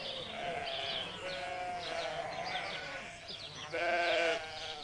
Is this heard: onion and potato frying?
no